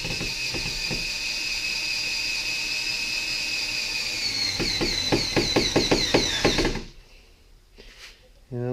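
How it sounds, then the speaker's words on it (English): Power driver sinking self-tapping screws from underneath during a custom CB mount install in a Jeep Wrangler TJ, a sustained whine followed by a rapid string of clicking ratchets, then quieter, with brief speech nearby. "So we're putting screws from underneath of this so we don't put screws into my heater box."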